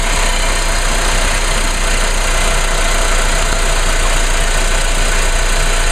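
A 1.8-liter four-cylinder turbocharged car engine idles steadily and loudly, a smooth continuous hum with a faint rattle, close by and with no other sounds.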